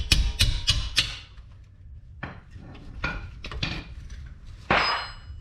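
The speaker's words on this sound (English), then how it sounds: "Break it loose with a normal wrench." A normal wrench loosening a rear brake bolt on a 2013 Subaru Legacy, a series of sharp metallic clanks and knocks, three quick ones then scattered clicks and a final scraping clunk, close up with no talking.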